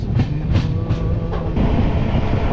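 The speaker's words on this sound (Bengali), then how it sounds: "দেখতেই পাচ্ছ আমাদের ট্রেন আস্তে আস্তে মালবাজারের দিকে ঢুকছে।" A passenger train rolls slowly into Malbazar station in the Dooars region, with a steady low rumble of wheels and carriage noise and faint rhythmic clacks running continuously throughout.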